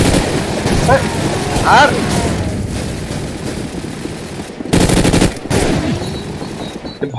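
Rapid gunfire from Call of Duty Mobile, shotgun and automatic bursts crackling in a dense mobile-game firefight, with loud volleys mid-clip and near the end, while someone talks over it.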